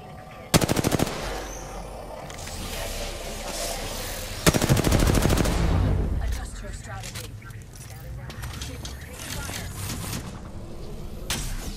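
Automatic gunfire in the battle-royale game Apex Legends: two loud, rapid bursts of shots early on, followed by quieter in-game movement and noise, with a player's voice speaking over the action.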